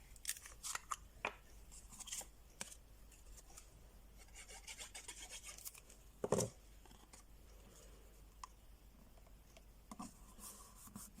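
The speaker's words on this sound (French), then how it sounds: "Il ne me reste plus qu'à arrondir les angles de mes deux petits rectangles." Small paper rectangles being trimmed to rounded corners for a garden sketch mini-album, heard as faint, close rasping snips and rubbing scrapes scattered across a quiet background, with one sharper burst midway.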